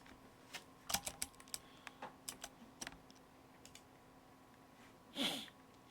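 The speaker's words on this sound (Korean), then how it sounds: "이거 뭔가 내가 키보드를 잘못 쳤는데, 안 지워지네" Scattered keystrokes tapped on a computer keyboard during a quiet math problem-solving session, irregular clicks in short bursts with pauses, followed by one louder, longer rustle near the end.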